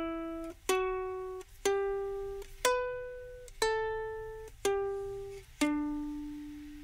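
A ukulele plays a Minecraft tune solo: seven slow, evenly spaced plucked notes, each ringing out clearly and fading before the next, close and gentle over a quiet background.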